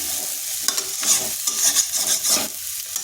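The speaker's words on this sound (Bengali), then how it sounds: "এইভাবে ডিমটা এর সাথে মিশিয়ে দিচ্ছি।" Egg being stirred into a dry-frying spring onion and vegetable curry in a pan, a close sizzle with repeated scraping strokes of the spatula.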